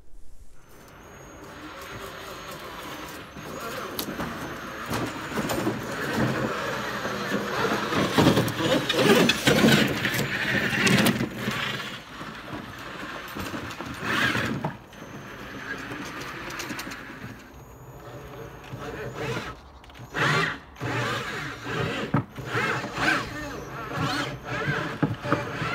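Homemade go-cart powered by a 4 kW drill motor, driving over frozen, muddy grass: a loud whining, straining motor drone that surges and drops with rough bumping and rattling, and faint talk at times.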